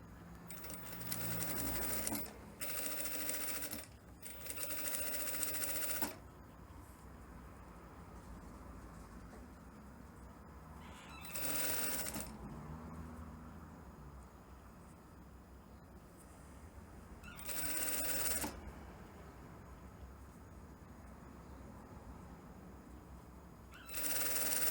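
A sewing machine stitches a blouse with a pleated neckline and shirt collar, running in several close, loud bursts of rapid stitching separated by quieter pauses.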